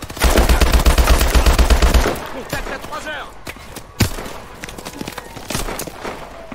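Rapid automatic gunfire rattles loudly for about two seconds in the Call of Duty Advanced Warfare video game, then gives way to scattered single shots, impacts and explosions, with talking over the action.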